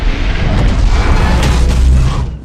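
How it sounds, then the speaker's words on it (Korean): Heavy booms roll out in quick succession, a loud, rumbling barrage of cannon fire that fades slightly at the end. "네덜란드는 인정사정 볼 것 없이 양쪽으로 대포를 쏟아붓습니다."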